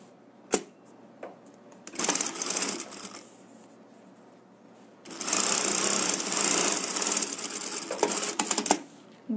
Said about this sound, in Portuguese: Bato a costurinha aqui, ó.